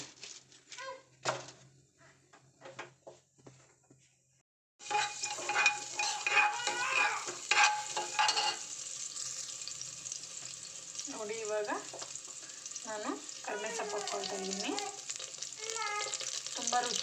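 Chana dal dropped into hot oil in a pan, a burst of crackling sizzle with stirring scrapes and clinks, after a quiet stretch of faint kitchen noises at the start.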